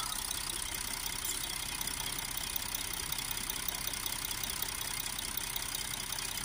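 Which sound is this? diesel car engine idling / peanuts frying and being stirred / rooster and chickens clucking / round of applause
diesel car engine idling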